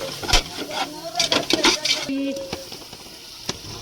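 Mint, coriander and green chillies are stirred in a pan in a home kitchen, giving short scraping, rustling clatters and a faint sizzle. Voices talk over the stirring.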